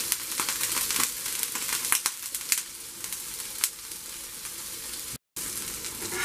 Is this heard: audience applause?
no